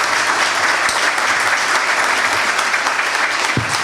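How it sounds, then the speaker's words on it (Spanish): An audience claps after an interview session, a loud dense burst of applause sustained evenly throughout with no voices on top. "Lo despedimos a Edgardo, si les parece, con un aplauso"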